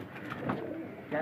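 A brief moment of pigeon cooing and rustling as birds are let out of their loft for a flight, faint and close.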